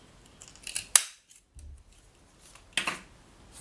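Scissors cutting out card stock, a few sharp snips close by, separated by quiet gaps, faint and with no voices.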